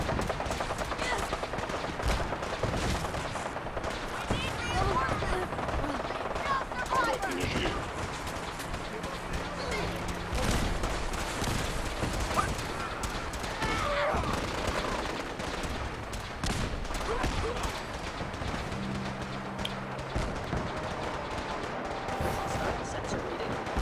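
Rapid gunfire from Fallout 4 combat: dense, continuous bursts of shots and automatic fire that run almost without pause, loud and close, with other busy game noise mixed in.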